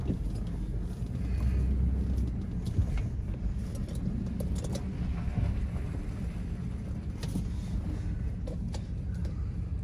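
A 2007 Dodge Ram 1500 pickup pulling forward outdoors, a low rumbling engine drone with wind buffeting the microphone, steady throughout.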